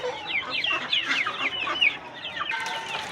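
Desi chickens and roosters cluck and squawk repeatedly in a busy, close farm flock, with sharp bird calls overlapping throughout.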